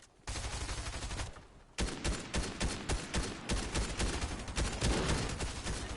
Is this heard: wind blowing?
no